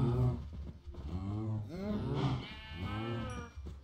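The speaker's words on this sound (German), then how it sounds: "Und hier ist auch noch ein Schaf." A sheep in the Minecraft video game bleats several times in a row, its wavering, nasal calls clear and close, with a faint voice in the background.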